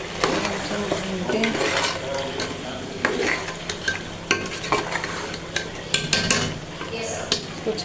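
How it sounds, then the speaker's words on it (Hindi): Onions and tomatoes for black chickpeas frying in oil in a home kitchen, with steady sizzling and repeated scraping, clattering stirs of a spoon against the pot throughout, close and fairly loud. "चलो भूनते हैं।"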